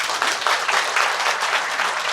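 A crowd of young people applauds loudly after Minister Kim Moon-soo's speech in Daegu, a dense, continuous wash of clapping with slight surges, sustained throughout.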